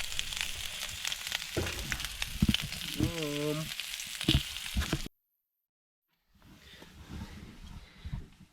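Floured snapper fillets fry in a pan with a steady crackling sizzle and a few scraping stirs, broken by a second of near silence before the quieter frying returns.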